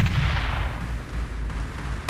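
A heavy, rumbling rocket blast in the video game Teleglitch, with a broad low roar that fades over a couple of seconds, then a fresh thump at the very end.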